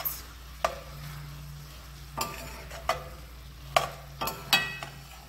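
Shrimp cook in a hot pan with a steady low sizzle, punctuated by several sharp scraping clatters of a utensil stirring against the pan at irregular intervals, close and clear.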